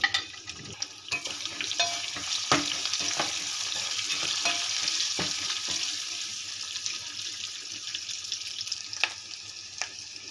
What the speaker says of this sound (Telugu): ఈ ఆనియన్స్ ఎక్కువ వేగితే బాగోదు, లైట్గా వేసుకోవాలి.